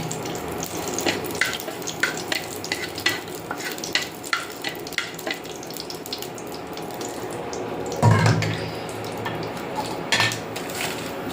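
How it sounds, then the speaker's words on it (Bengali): Dried red chilies and nigella seeds sizzle in hot oil on an induction cooktop, a steady close crackle with repeated sharp clinks and scrapes of stirring and a louder burst of sizzle near the end. "দিয়ে দেব ফোড়নে শুকনো মরিচ, দিয়ে দেব কালো জিরে"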